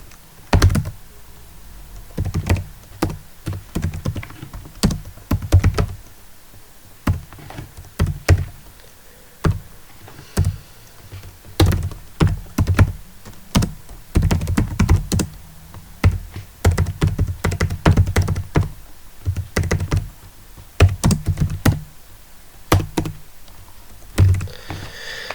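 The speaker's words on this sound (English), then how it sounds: "I will type it manually." Command typed on a computer keyboard in clustered bursts of close, crisp key clacks with short pauses between runs, no talk.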